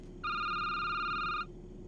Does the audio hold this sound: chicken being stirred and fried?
no